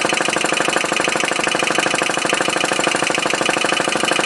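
A homemade atmospheric engine runs steadily, its valve slide clicking in a fast, even rhythm with a dense mechanical clatter throughout, close and loud.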